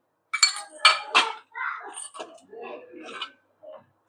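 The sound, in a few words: spoon clinking while adding turmeric to pan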